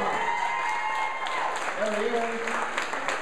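Audience applause at a comedy show, a steady wash of clapping from a packed room running the whole time, with a brief spoken word over it.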